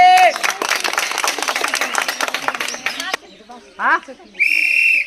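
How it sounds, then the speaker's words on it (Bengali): A group claps in a quick, scattered burst of applause for a few seconds at a party game prize announcement, mixed with voices, followed by a short shrill whistle. "সবাই হাততালি।"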